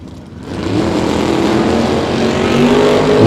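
A 1967 Camaro with gold rally stripes and a Vega GT launching at a bracket drag race, engines building into a loud, sustained roar that swells toward the end.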